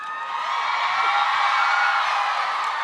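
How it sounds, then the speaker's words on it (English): A packed convention hall crowd of fans at a Helluva Boss voice actor panel at FanX 2025 in Salt Lake City, cheering and whooping in one sustained loud roar that holds steady throughout. "this is the most cheering I've ever heard in any con combined"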